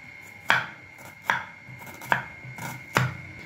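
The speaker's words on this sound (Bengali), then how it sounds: "পেঁয়াজটা একটু মিহি করে আমি কেটে নেব।" A knife finely chops onion on a board for a Kashmiri chicken kurma, with four sharp, evenly spaced chops that ring out clearly with no talking.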